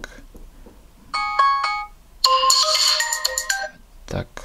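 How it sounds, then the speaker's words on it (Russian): A Blackview Max 1 smartphone plays its ringtone at full volume, bright repeating electronic tones in two bursts, loud and close, with a voice speaking briefly around them. "Сейчас посмотрим, как у нас умеет шуметь телефон."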